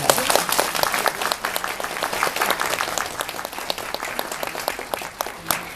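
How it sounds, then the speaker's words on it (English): Audience applause at a regional conference of a blind union, a dense sustained clapping that fills the room, steady and fairly loud with crisp individual claps throughout. "So let's give them a big applause."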